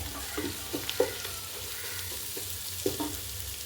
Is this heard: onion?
yes